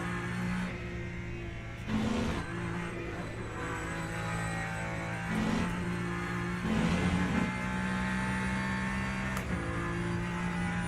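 Rear-wheel-drive race car in the Le Mans Ultimate sim racing game, engine droning steadily with a sustained harmonic whine, with several brief surges as it pulls hard at speed, fairly quiet and without talk.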